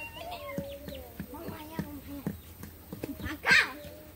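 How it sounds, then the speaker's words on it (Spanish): Puppies whimper and whine in high, wavering cries with short yelps mixed in, close by and fairly busy. People seem to talk in the background. "Van bonitos los cachorritos."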